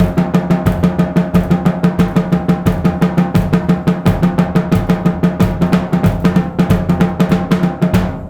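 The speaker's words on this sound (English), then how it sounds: "If I add my bass drum in, you'll hear the difference." Drum sticking in a shuffle with the bass drum joined in, dense swung close hits riding over steady low kick thumps for the full stretch, no voice present.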